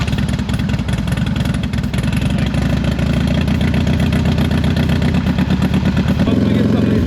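Motorcycle engine running loud and close with a rapid, uneven thumping idle, the beat shifting slightly near the end as it revs.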